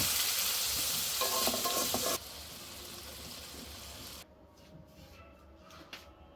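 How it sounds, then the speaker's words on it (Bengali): Prawn curry fries and sizzles in a pan as it is stirred. The noise is loud at first, then drops in two abrupt steps to a quieter simmer with a few scrapes near the end. "হালকা একটু নাড়াচাড়া তো অবশ্যই দিতে হবে"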